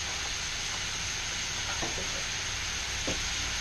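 Butter with garlic shrimp in a hot stainless steel pan gives a steady, bright sizzle and hiss at close range, with a few soft stirring scrapes now and then.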